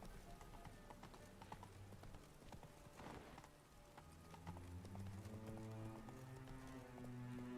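Roach the horse galloping in The Witcher 3, a rapid rhythmic clip-clop of hooves over steady ambient sound, with a low voice briefly heard.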